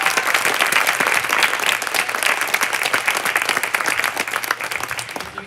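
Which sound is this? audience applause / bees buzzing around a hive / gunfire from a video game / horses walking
audience applause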